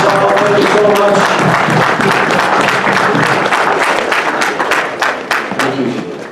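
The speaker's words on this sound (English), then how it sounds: "Give a round of applause to the sister who drew it" An audience at a dinner event applauds a raffle winner, with dense, loud clapping from a crowd that fades out gradually toward the end, while voices can be heard faintly beneath.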